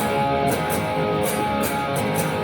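Sustained guitar chords strummed with the notes left ringing rather than cut off in staccato breaks, a dense continuous wash with repeated strums, played alone at a steady level for a rock song section.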